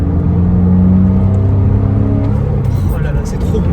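A Porsche Boxster S 986 flat-six holds a loud, close, rising rev before the engine note drops away into a lower idle, with someone speaking over the tail end.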